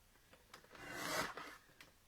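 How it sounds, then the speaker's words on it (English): Paper trimmer slicing a strip off a sheet of designer series paper: a single soft, close scraping swish rising and fading over about a second, with faint small taps around it. "Now we're going to trim off this bottom"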